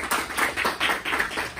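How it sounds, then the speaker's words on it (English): A short burst of applause at a school assembly, many hands clapping loudly and unevenly, close and continuous. "Round of applause, please."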